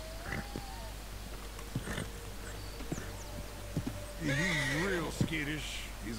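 A horse in the video game Red Dead Redemption 2 gives a loud, wavering whinny near the end, following quieter snorts and hoof clops over a steady background hum.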